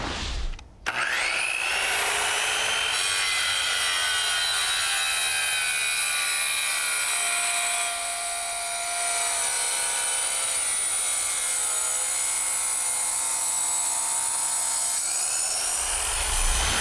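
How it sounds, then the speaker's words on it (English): A rail-guided wet tile saw cuts along a tile for a sidewalk or patio, a loud, steady whining grind that starts sharply and holds near-constant pitch throughout before trailing off at the end. "We just set it at a quarter inch, make this cut, and we should be consistent all the way down."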